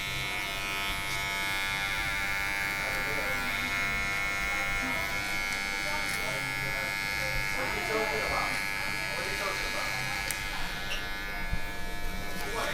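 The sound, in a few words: plug-powered electric hair clippers buzzing during barbershop trim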